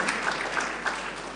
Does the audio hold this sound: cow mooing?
no